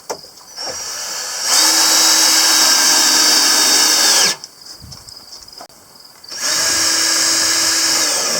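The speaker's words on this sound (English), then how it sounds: "Go ahead and put in some screws." Power drill driving screws into the wood of a goat-proof hay and feed shelf, several loud sustained whirring bursts with pauses between them, no talking.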